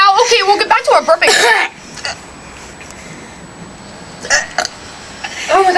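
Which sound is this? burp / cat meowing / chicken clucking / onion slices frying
burp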